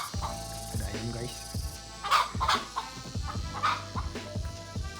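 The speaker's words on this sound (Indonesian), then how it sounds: "ada ayam guys" Chickens cluck close by in a rapid, repeating series of short, throaty calls with a few louder squawks among them, and a steady low background hum underneath.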